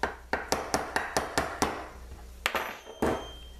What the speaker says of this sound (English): And give it a couple more whacks.